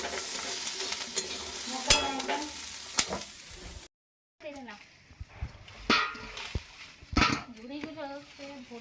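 Onion, garlic, whole coriander and cumin frying in a pan, a sizzle with stirring scrapes underneath, interrupted by a brief silence, while someone talks over it and a dog barks now and then.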